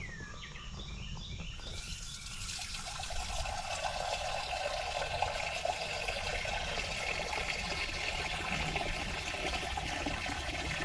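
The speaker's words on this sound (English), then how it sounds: "I better give them some water." Water poured into a rabbit's water dish, a steady splashing stream that runs for several seconds, with faint bird chirps in the background outdoors.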